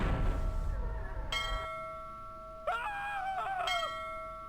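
Bell in the MS-DOS adventure game Ripley's Believe It or Not!: The Riddle of Master Lu, ringing in clear sustained metallic strikes that hang and decay, repeating several times over a low rumble, with no talk.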